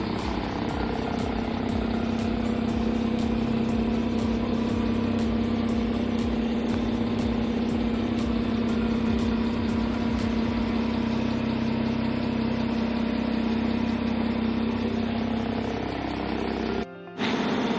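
A 2019 Porsche 911 Carrera engine runs at idle nearby, producing a steady, even hum with a strong low tone that holds for most of the stretch before a brief cutoff near the end.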